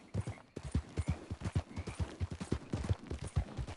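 Horse hooves clip-clop along at a steady trotting rhythm in a video game, distinct close footfalls with a soft snort or two and no talking over them.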